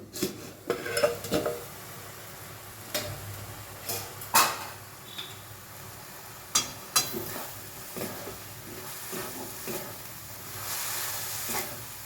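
A lid lifted off a pot of simmering chal kumro with peas: a few sharp metallic clinks and knocks of pot and utensils stand out over a faint sizzle, close by.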